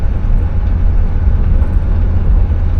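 A 1967 Cadillac Deville V8 engine running with a steady, loud low rumble heard from inside the car, a continuous drone with no voices.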